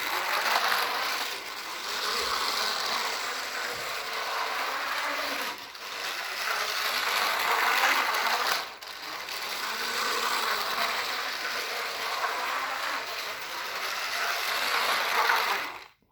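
A toy Land Rover car whizzes around a track with a continuous whirring, buzzing motor, briefly dipping twice before cutting off at the end.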